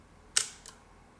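A Mamiya C330 twin-lens reflex film camera with an 80mm lens fires its shutter: one sharp, close mechanical click, followed a fraction of a second later by a fainter second click, with quiet room tone around it.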